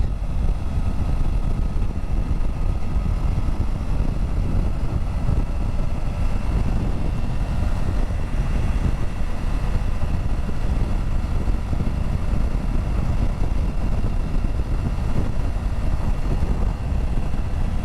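A Triumph Tiger 900 GT Pro motorcycle is ridden at speed, giving a constant, dense rumble of engine and wind roar that stays steady throughout with no talk.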